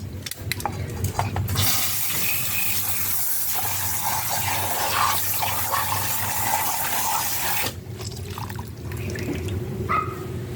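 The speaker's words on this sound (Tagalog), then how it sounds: "Ugasan na natin yan ng tubig." Water runs in a steady rushing stream for several seconds, rinsing a brake booster part, starting and stopping abruptly, with faint clinks from handling the part nearby.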